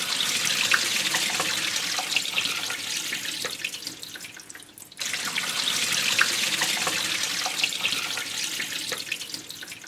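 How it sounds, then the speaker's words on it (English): Water pours steadily into a spiral vortex turbine, a continuous rushing splash that briefly drops away midway before resuming at full strength, close and loud with no talking. "So what we need to do now with it is put some water in at this end and see if it'll spin."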